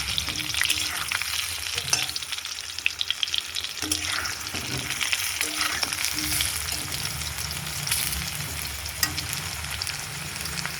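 Potatoes frying in oil in a pan sizzle continuously and loudly, with occasional scraping knocks of stirring.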